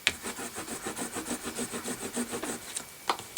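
Folded paper for a file folder mini album is burnished with quick, rhythmic back-and-forth rubbing strokes, close and steady, ending with a sharper scrape.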